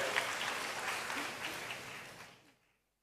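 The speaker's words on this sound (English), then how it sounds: "please give me applause and welcome Prof. Sachiko and Prof. Daryono" An audience at an academic conference applauds steadily and fairly faintly for arriving speakers, the dense clapping holding even before fading out to silence.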